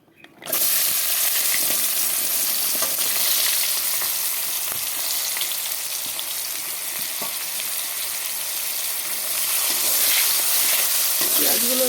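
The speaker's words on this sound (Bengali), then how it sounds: "দেখো পেঁয়াজগুলো তেলে ঢেলে দিলাম" Chopped onions hit hot oil in a pan for a chicken curry, giving a loud, steady, crackling sizzle that starts abruptly and fills the whole stretch without any voices.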